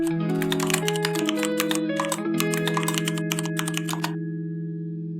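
A computer keyboard clatters as a folder name is typed, a quick irregular run of key clicks over a sustained musical background, stopping shortly before the end.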